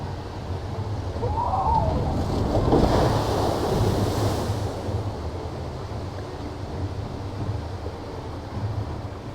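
Outdoor wash of splashing, rushing water with wind buffeting the microphone, fitting the Diamond River log flume at Legendia amusement park in Poland; a louder surge around the middle settles into steady spray noise, with no talk.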